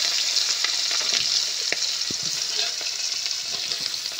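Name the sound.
prawns frying in hot oil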